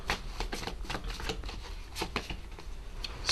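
Tarot cards being shuffled by hand, a steady run of quick riffling flutters and soft slaps at close range, with no talking over them.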